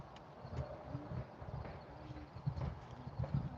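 Hooves of a ridden horse at a horse rescue clip-clop at a steady walking rhythm, soft and somewhat distant over faint outdoor wind and rustle.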